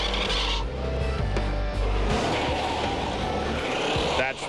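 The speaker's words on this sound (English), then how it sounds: "With that help and a monster burnout, we get the best numbers of the day." A 2001 Lingenfelter twin-turbo Corvette doing a monster burnout and launch on a drag strip, its engine roaring loud and continuous throughout the short burst.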